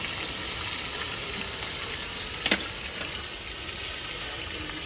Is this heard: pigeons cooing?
no